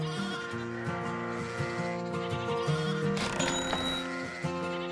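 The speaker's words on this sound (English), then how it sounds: "So now I want to buy 3 sheep." Sheep in a farming video game bleating repeatedly, several overlapping wavering cries close up over a steady background of game music.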